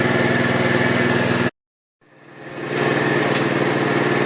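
An ATV engine idles with the choke full on, a loud, buzzing, rapid putter that cuts out abruptly, falls silent for half a second, then restarts and swells back to a steady drone.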